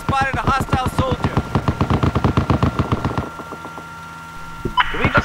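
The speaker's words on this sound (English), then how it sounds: "Can we just get two machine guns shooting at each other constantly?" Rapid machine-gun bursts from the video game Battlefield 4, a loud close string of evenly spaced shots for about three seconds, then a quieter stretch with a faint tone before brief voice-like sounds return.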